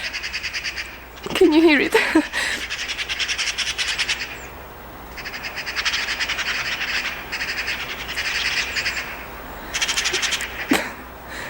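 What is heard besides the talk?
birds singing outside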